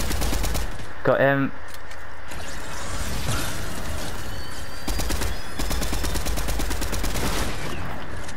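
Rapid bursts of gunfire from a Fortnite creative-map match crackle through the clip, with a loud clattering burst early on and repeated shots later, mixed with game effects and a player talking over it.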